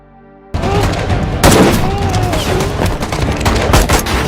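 Loud bursts of rapid gunfire and booming shots from a battle scene in the film Takluk Lahad Datu, with overlapping volleys and rumbling impacts.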